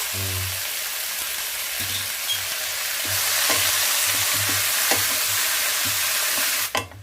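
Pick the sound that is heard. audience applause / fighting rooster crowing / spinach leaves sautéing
spinach leaves sautéing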